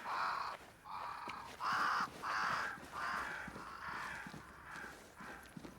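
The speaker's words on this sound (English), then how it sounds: "Crows." Crows caw from a great tree in the video game Banishers, a series of about eight harsh, evenly spaced calls, loud at first and gradually fading, with faint game ambience behind them.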